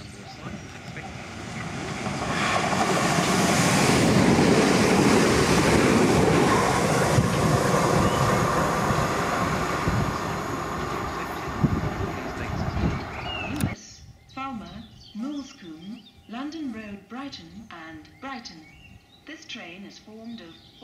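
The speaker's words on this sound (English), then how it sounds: "The train now approaching platform 1 is the 18:17 Southern service to Brighton." A Southern train rumbles loudly into Berwick Station in East Sussex, building and fading over several seconds, then a platform announcement voice begins over the quieter platform ambience.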